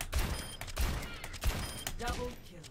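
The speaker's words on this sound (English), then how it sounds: "Ashe players will generally fire at their max fire rate." Ashe's rifle in a video game fired at maximum fire rate, a row of sharp gunshots roughly every two-thirds of a second with background game sounds and faint voices underneath.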